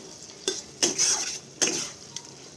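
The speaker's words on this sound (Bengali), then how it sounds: "বেশ কিছুক্ষণ এটা নেড়ে ছেড়ে নিতে হবে" A Bengali curry of eggplant cooked in fish oil being stirred in a pan, a few scraping strokes of a spoon against the metal over a soft sizzle, close and distinct.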